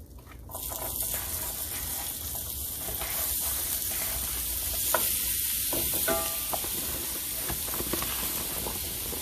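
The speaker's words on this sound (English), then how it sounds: "So I got that butter melted good and I'm just going to go ahead and slide in my onions" Onions sizzle in melted butter in a pan on a stovetop, a steady close hiss that swells as they go in and holds at an even crackling level throughout.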